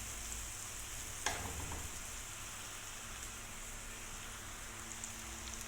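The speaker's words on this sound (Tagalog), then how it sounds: "So ito guys, nilagay ko na yung bawang habang naghihintay tayo na maluto yung ano" Garlic and onion sautéing in a pan, a faint, continuous hiss of frying with one brief clack near the start, quiet and steady without talking.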